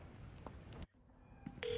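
Telephone keypad tones from a phone being dialled in the video game Resident Evil 4 Remake, with a few short beeps, a sudden drop to near quiet, then a sustained tone at the end.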